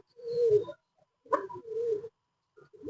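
Pigeons in a breeder setup cooing in a few close, soft, throaty phrases separated by short pauses, with no talking.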